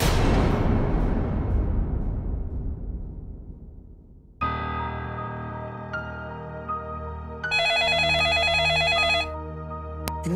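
A telephone rings late at night in a Hindi crime drama, its electronic ring rising after a fading whoosh and steady hum, then a brighter burst of repeated warbling tones near the end.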